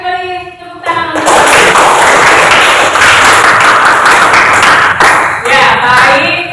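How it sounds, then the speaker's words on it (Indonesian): Classroom applause: a loud burst of many hands clapping together, lasting about four seconds with a few thumps, bracketed by a teacher's voice speaking before and after. "Ayo beri tepuk tangan untuk."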